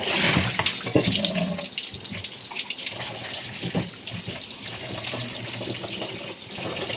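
Tap water runs and splashes steadily while freshly cut fish is washed in a home kitchen, a close, continuous gushing that lasts the whole time, with small clatters from handling.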